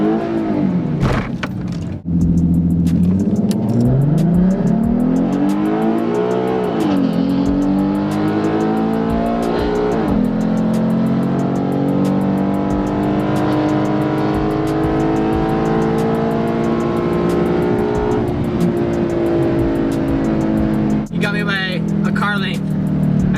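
A bolt-on V6 Ford Mustang drag races a 2016 or 2017 2.0 Camaro with an 8-speed at the track, its engine roaring loud and close as it climbs through the gears in long rising sweeps with drops at each shift.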